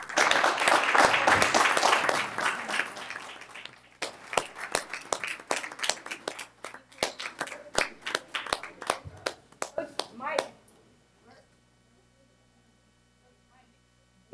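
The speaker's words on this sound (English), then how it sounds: "Let's all give them a round of applause" An audience at a Sacramento City Unified School District event breaks into loud, dense applause that thins into scattered claps and fades out after about ten seconds.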